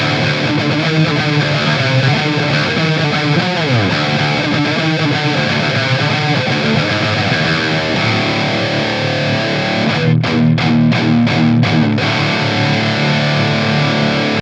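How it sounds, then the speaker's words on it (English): Heavily distorted electric guitar chugging through a metal riff, loud and dense, ending in a few sharp, rhythmic stop-start chops. "I'm going to try and do a metal riff for you"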